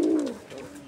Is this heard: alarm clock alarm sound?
no